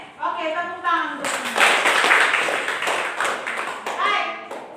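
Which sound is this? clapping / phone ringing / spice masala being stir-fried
clapping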